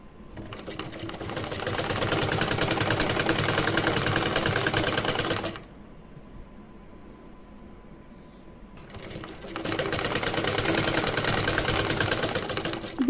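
Sewing machine stitching net fabric for a small dress, running in two steady whirring bursts separated by a quiet pause, loud and close with no talk.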